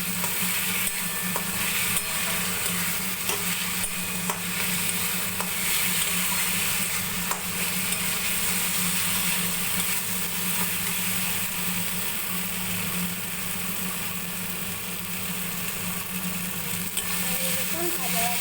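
Pointed gourd curry frying in a pan with oil, a steady dense sizzle under repeated scraping strokes of a spoon, close and continuous with occasional faint voice in the background.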